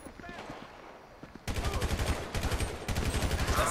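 Rapid bursts of gunfire from a GTA V shootout, quieter and scattered at first, then loud, dense automatic fire with repeated volleys taking over after a moment.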